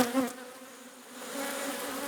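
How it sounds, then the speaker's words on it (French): Honey bees from an opened beehive during a varroa mite check make a steady, dense buzzing drone that swells slightly toward the end, with no talk over it. "vous allez entendre des abeilles bourdonner"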